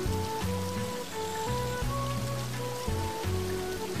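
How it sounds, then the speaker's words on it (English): Steady rain in the farming video game Sakuna: Of Rice and Ruin, a constant patter under layered tonal game music, with no voices. "It's raining, so yeah, that's what I figured"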